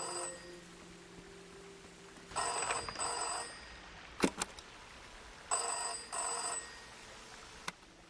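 Telephone ringing in the video game Season: A Letter To The Future, a bell-like ring in two double bursts separated by a pause, moderately faint over quiet background with a couple of brief clicks between rings.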